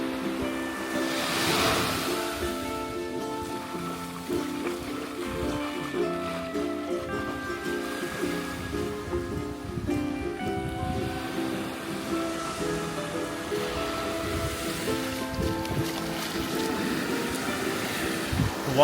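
Surf breaking steadily on a beach at Pulau Weh in Aceh, Indonesia, a continuous close wash of waves with some wind and faint background voices.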